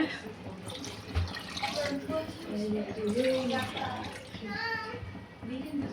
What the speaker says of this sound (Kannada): ಈಗ 4 ಗ್ಲಾಸ್ ನೀರು ಹಾಕ್ತಾರೆ